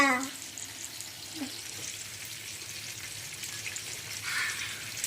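Chicken fries in a pan, giving a faint, steady crackling sizzle with a few small clinks of a utensil near the start, close by but quiet.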